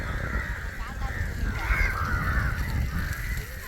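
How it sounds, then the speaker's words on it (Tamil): Crows caw repeatedly in the open during the evening, their harsh calls overlapping against a busy background with voices talking nearby. "எவ்வளோ காக்காங்க"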